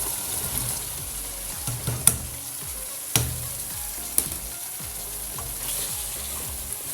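Potatoes and cauliflower frying in roasted masala in a home kitchen, a steady close crackling sizzle with scattered pops and a few sharp clanks of the spoon or pan while being stirred.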